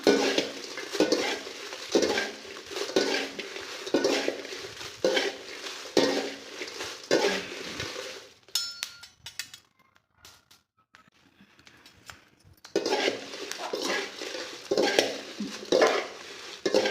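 Kashmiri chillies dry roasting in a pan, stirred with a utensil in regular scraping strokes, pausing to near quiet midway before the rhythmic stirring resumes, close and clear without voices.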